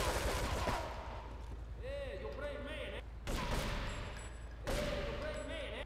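Gunfire from the video game Grand Theft Auto III comes as rapid bursts of shots in several sustained volleys, with a person talking over the game sounds.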